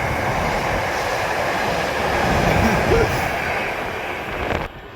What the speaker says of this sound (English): we just get a warning saying, be careful, there's a fast train coming